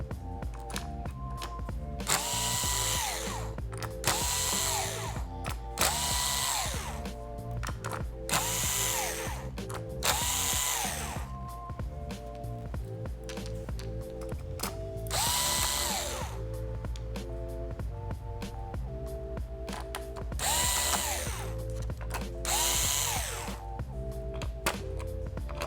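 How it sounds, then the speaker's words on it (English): A power screwdriver backs out the palm rest screws of an Acer Chromebook C722, whirring in repeated short bursts with brief pauses between each screw, close and steady, with no talking. "now you can take all the screws out of the palm rest"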